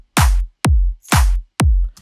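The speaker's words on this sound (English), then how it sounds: "This is how the drums sound without the second kick" Produced drum track with a single kick and no second layered kick: four punchy hits alternating kick and snare at a steady, moderate pace, dry and alone with no talk.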